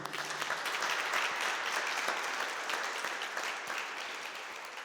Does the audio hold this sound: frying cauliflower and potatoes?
no